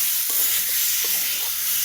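Onion, garlic, ginger and dried chilli paste sautéing with potatoes, a continuous loud hiss of frying with a few soft scraping stirs.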